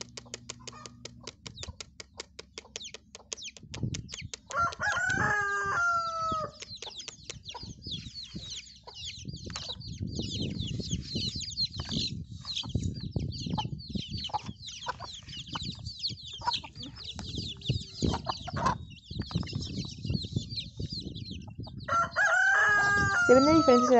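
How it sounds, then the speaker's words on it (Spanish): A hen with sixteen chicks clucking and cheeping steadily, with a rooster crowing near the start and again at the end, all fairly close. "Y ahora le toca a mi gallina con sus 16 pollitos. La llamo y viene con sus pollitos."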